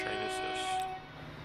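A train passes in the Transport Fever 2 simulation game, giving a brief, steady tonal horn-like hum with a faint rumble underneath, fairly loud throughout and easing off near the end.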